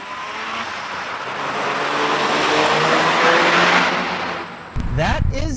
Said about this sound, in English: keep that rotary engine in the perfect rev range to keep those twin turbos spooling